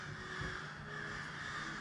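Crows caw outdoors near a camp grill, a string of hoarse calls ringing over a steady background hum with no one talking.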